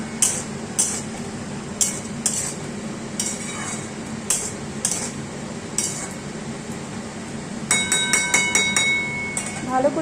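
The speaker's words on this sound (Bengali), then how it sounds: "এটাকে দিয়ে এরপর ভালো করে নাড়াচাড়া করে নেব।" A spoon scrapes and clinks rhythmically against a metal pot while stirring cooked sweet pumpkin with grated coconut, over a steady background hum, with brighter clattering toward the end.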